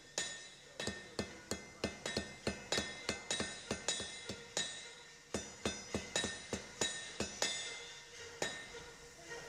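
A blacksmith's hammer strikes a steel taper on an anvil in light, evenly paced blows, each a sharp ringing clink, about two dozen in quick succession, close and clear with no talk.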